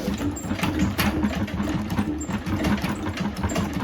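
A hand-cranked honey extractor spins fast on an unsteady stand, giving a continuous mechanical whir with a rapid rattling pulse from the cranking, close and steady.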